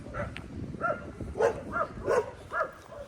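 Several sharp dog barks come in an uneven series, a few of them doubled, at moderate distance over a quiet rural background of farms near a river. No one speaks.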